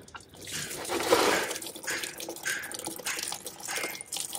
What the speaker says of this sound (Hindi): अभी हम जो पानी और क्लीनर डाला था वो निकाल रहे हैं